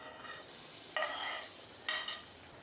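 Chopped onion sizzles steadily in a cumin and curry leaf tempering for radish sabji, with two brief louder bursts as it is stirred in the pan; no voices.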